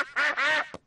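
Cartoon ducks quack in two loud, close, nasal calls followed by a brief third squawk, with no talking over them.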